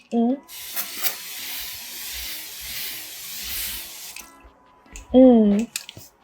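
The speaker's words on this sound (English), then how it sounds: "Let me spray first." A spray bottle hisses in one long continuous spray lasting a few seconds, close up, with brief voice sounds before and after.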